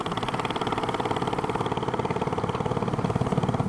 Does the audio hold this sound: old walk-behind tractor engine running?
yes